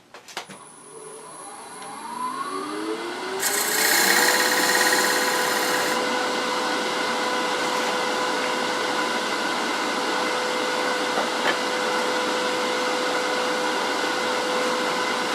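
A wood lathe spins up and runs steadily with a sustained whine and hum while a gouge cuts a bead detail on a turned bowl, the cutting adding a brief hiss near the start before the motor drones on alone.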